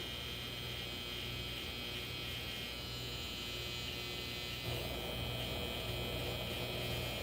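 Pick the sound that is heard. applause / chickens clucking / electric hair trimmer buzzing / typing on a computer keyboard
electric hair trimmer buzzing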